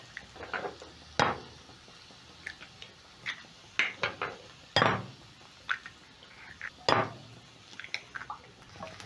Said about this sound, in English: As my onion cooks, I'm going to be cracking in 4 eggs.